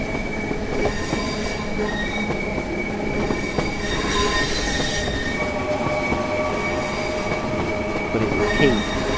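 A heritage DMU train on the West Somerset Railway runs steadily in Train Sim World 5, with continuous engine hum, rail rumble and occasional wheel squeal and clicks.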